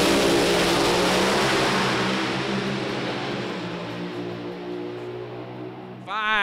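A drag racing car at the Norwalk track revs hard and accelerates down the strip, a loud, sustained engine roar with harmonic bands that fades slightly as it pulls away, then a sharp rising note at the very end.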